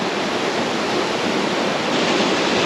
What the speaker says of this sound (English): It's amazing seeing an overflow in the dam after all these years of being dry.